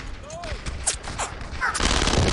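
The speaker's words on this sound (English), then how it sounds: "I'm gonna get on this machine gun right here." A mounted machine gun fires in the World War II game Brothers In Arms: Road to Hill 30, giving a ragged fusillade of sharp shots over busy battlefield noise.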